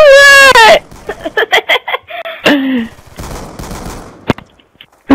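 Gunfire from a Black Ops 2 one-on-one match: a burst of several sharp, close shots, followed by a few scattered single shots. A brief tonal, rising cry comes just before the shots.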